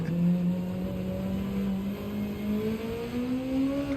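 Engine of a VW Beetle race car in Gran Turismo 7 revving steadily, its drone slowly rising in pitch as it accelerates, loud and continuous with no talk.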